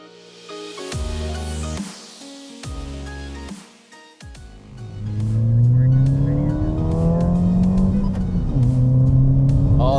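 A Ford Fiesta ST with a 1.6-liter EcoBoost engine accelerates hard, with the engine note rising through short bursts before a long, loud climbing pull. The engine sounds close, as heard from inside the car.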